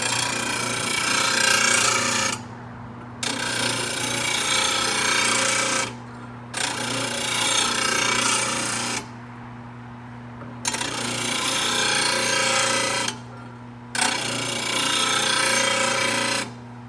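A power blade sharpener grinds a lawn mower blade in four harsh, loud bursts of about three seconds each, separated by short pauses, over a constant motor hum.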